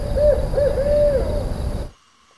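A barred owl gives its hooting call, a loud, close series of rhythmic hoots rising and falling in quick succession before stopping sharply.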